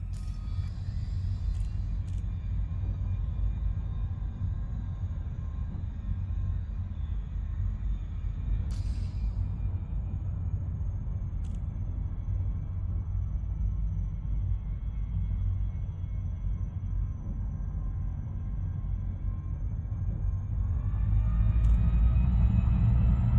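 A spaceship's frameshift drive charges in a space flight game, a steady deep engine rumble that drones continuously for over twenty seconds, with a faint high whine and a swelling surge near the end, no voices.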